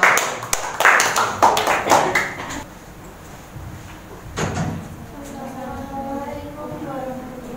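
A small group in a classroom claps briefly for a presenting team, a quick flurry of close claps over the first couple of seconds, then a single knock and faint murmuring voices.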